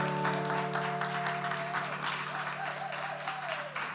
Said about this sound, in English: Let's give one more round of applause for MeMissJones.